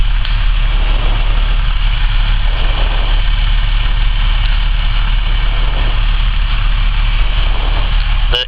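A light aircraft engine runs steadily on the ground before takeoff on a first solo flight, a loud, constant droning hum heard close from the cockpit with a slight rhythmic pulsing.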